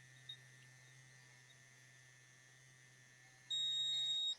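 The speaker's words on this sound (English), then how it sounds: "this sound each 10 second is to tell you you can change area" An ultrasonic electric toothbrush gives a short electronic timer beep, a steady high tone lasting under a second that signals time to move to another area of the mouth, faint and heard alone.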